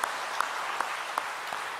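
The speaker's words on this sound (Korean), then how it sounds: "다시 한번 박수로 격려합니다" A church congregation applauds during a Sunday worship service, a steady wash of clapping with a few sharper claps standing out, moderately distant and with no talking over it.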